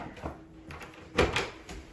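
A door in an empty apartment, leading out to a small courtyard, is opened with a short clunk and rattle, close and moderately loud, amid quiet room tone.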